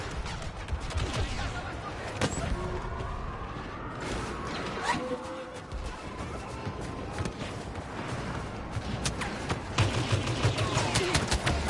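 Gunfire in a shooting video game, rapid bursts of shots and cracks over a busy, loud mix of game noise that continues throughout.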